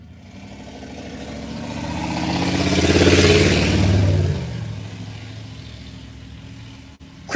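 An engine approaches and passes close by, swelling to a loud rumble midway and then fading away, with a sharp click at the very end; the vehicle is a rusty van without windows.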